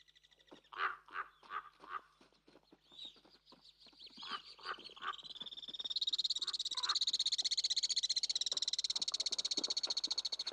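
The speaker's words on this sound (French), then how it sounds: "marque la limite supérieure de l'habitat du crapaud accoucheur qui porte sa ponte sur son dos" A midwife toad calls beside a shallow natural mountain lake high in the Néouvielle reserve, around 2400 metres, its clear, repeated notes mixing with other chirping calls that swell into a steady, dense chorus in the second half.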